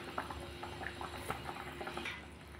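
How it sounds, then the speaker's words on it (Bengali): A thin fish curry with ridge gourd and potato bubbles in a pot, soft quiet popping and simmering that runs steadily, close by, with no voices. "একটু ফুটে এলেই নামিয়ে দেবো।"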